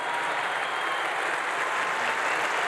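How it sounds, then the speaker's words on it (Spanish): An audience at a public event in Mexico applauds steadily as a tribute, a dense, even wash of clapping heard alone at moderate loudness. "Quiero pedirles no un aplauso, un homenaje para el ingeniero Slim."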